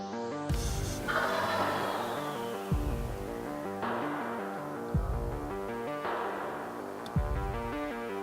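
A wild turkey gobbles repeatedly in a spring woodland, each loud rattling call ringing out close by in a regular series of about five bursts spaced a second or two apart.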